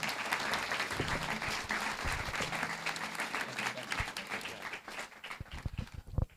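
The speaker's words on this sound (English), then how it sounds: "Please give them a round of applause." A meeting audience applauds the board of directors after their introductions: a sustained patter of many hands, moderately loud, with a few low voices and scattered sharper claps as it thins toward the end.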